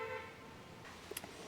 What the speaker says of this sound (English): If you're wondering what that honking is in the background